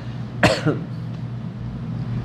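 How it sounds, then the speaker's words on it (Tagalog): A single sharp cough close by, followed by a softer second hack, then quiet background hum. "Ubo muna tayo."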